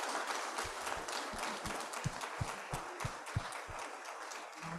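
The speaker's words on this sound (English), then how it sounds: "Let's give them a round of applause" Audience applause for conference panelists at a clean tech and energy transition plenary, a dense wash of clapping from many hands sustained for several seconds, with a few sharper individual claps standing out.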